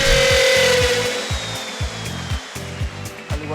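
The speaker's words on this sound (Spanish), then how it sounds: "es importante no sacar el router hasta que no haya dejado de girar la broca para evitar dañar la plantilla" A router bit cuts into a KOBER Freedom installation template. The whine holds steady while short rhythmic chattering bursts repeat close by, then pause and return.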